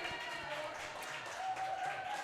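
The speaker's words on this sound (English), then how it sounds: "Big applause there" Crowd applause at the finals of a classic pinball championship in New York City, a steady wash of clapping and cheering from the audience, with a voice talking underneath.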